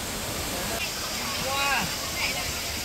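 Indoor waterfall inside a climate-controlled dome in Singapore, a steady broadband rush of falling water filling the space, with brief faint whistling or chirping sounds partway through.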